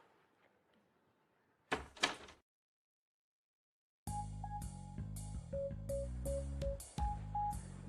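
A door opens in a Hindi film scene with a brief sharp burst of latch and swing sounds. Silence follows, then loud rhythmic background music.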